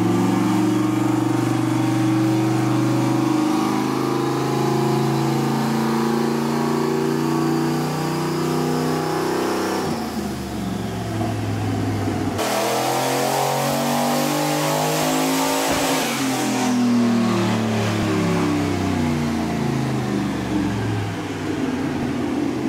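Cummins diesel-swapped Barracuda engine revving hard in repeated pulls, pitch climbing and falling as it winds up toward about 6,000 rpm, loud and close with no talk.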